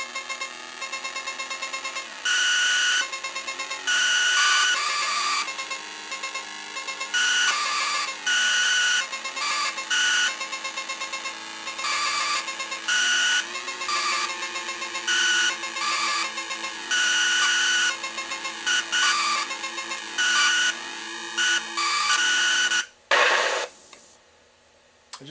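Electronic tones from a repaired Sega/Gremlin 1979 Head On arcade board: a loud run of shrill synthetic beeps and warbling sweeps in repeated bursts, with a steady tone sustained beneath, then a brief noise burst near the end.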